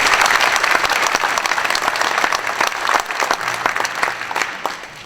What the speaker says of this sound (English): So if you would give those helpers a big round of applause.